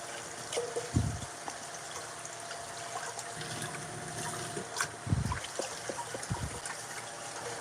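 Fish pieces being rinsed by hand in water after a Guyana fish market, with several short splashy sloshes over a steady trickling background, close and moderately loud.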